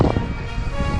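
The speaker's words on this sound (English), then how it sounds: "I'm hoping that we'll hold this nice strong breeze for another day." Strong breeze buffets a sailboat under way at sea, a steady, loud rush of wind over the microphone with a low rumble, no voices.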